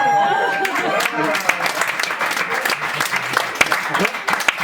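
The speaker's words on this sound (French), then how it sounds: "Allez, vous pouvez les applaudir." French comedy show audience applauding two audience members, a full crowd clap that is fairly loud and close, with a voice speaking over it.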